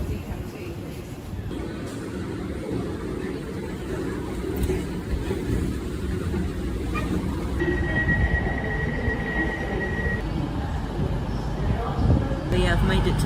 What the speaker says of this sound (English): I've made it to the train station.